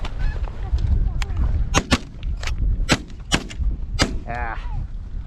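Several sharp shotgun blasts ring out during a windy field goose hunt, spaced irregularly over a few seconds, with geese honking nearby and steady wind rumble underneath.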